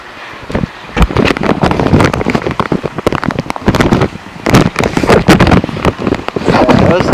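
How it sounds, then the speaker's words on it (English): Heavy rain in a Vancouver, WA thunderstorm pelts close by as loud, dense crackling and splattering, with gusty bursts that swell and fade across the stretch. "That's just heavy rain."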